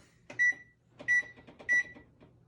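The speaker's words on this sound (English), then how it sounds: "I'm gonna set my timer first for my veggies, and I'm gonna set it for 30 minutes" A kitchen timer being set for vegetables in the oven gives three short, bright electronic beeps spaced about half a second apart, with soft button presses and handling noise between them.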